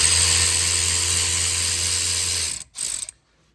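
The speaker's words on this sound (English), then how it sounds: "These caliper bolts are 14s, so we're going to try taking this bad boy off." A ratchet clicks rapidly and continuously for about two and a half seconds, close up, loosening 14 mm brake caliper bolts on a 2010 Toyota Camry SE. A brief burst of clicking follows before it stops.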